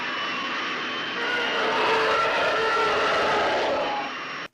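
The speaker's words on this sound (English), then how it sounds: "it is a TIE fighter from the Star Wars films, or any of the fighter jets in the Star Wars movies going off." A Star Wars TIE fighter effect from a film, a loud whooshing, roaring engine scream that swells, holds for a few seconds and then cuts off abruptly.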